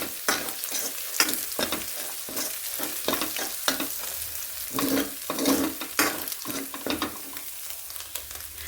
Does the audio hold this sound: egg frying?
yes